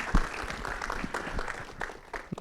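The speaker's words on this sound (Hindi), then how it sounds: "एक बार बंदा के लिए एक बार जोरदार ताली होनी चाहिए।" Brief, fairly faint clapping from an audience at a film trailer launch event, an uneven patter of hands with a few sharper claps, with no talking.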